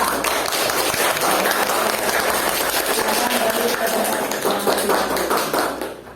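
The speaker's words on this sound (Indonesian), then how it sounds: "Oke, tepuk tangan untuk kelompok 3." A classroom of students claps for group 3 during a teaching assessment in an Indonesian Islamic religious education class: dense, steady applause for about six seconds that tapers at the end, with voices mixed in.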